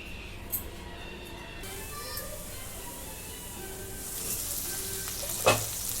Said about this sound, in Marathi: आता बारीक गॅसवरती वापरून घेतो